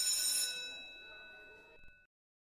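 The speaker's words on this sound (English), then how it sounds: "Oh, the bell rings." An electric bell rings at a school on the first day of high school, a bright steady metallic ringing with sustained tones that hold for about two seconds before cutting off abruptly, fairly close and alone.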